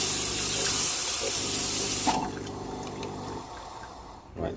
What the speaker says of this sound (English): it's purging out the excess water and excess steam pressure directly to the drip tray